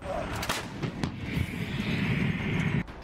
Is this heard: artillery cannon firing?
yes